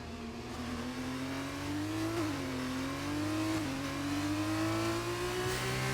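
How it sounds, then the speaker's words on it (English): An F2 race car in a racing video game revs out of a hairpin, its engine note climbing steadily with brief dips at gear changes, loud and continuous with no talk. "Look at how low revs Jam's having to use coming out of that hairpin"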